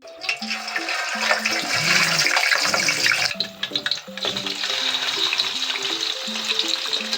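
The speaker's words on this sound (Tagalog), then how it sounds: "sunod na rin nga po nating piprituhin ang pinakuluan nating karne" Boiled pork for lechon kawali fries in hot oil in a wok, producing a loud, continuous crackling sizzle with a stepped tonal melody running over it.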